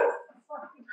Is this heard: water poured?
no